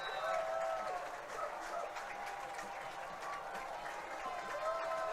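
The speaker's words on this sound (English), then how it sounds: "the crowd is back on their feet for a huge 4th down and 8 coming up" A high school varsity football crowd at Cichy Stadium, Shanley versus Bismarck, cheering and clapping at a distance in a sustained roar, with an announcer talking over it.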